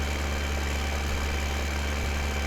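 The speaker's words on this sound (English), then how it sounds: "It's certainly not a very fast tractor" An old tractor idling in Farming Simulator 2015, a loud, steady low engine drone with a constant hum and no variation.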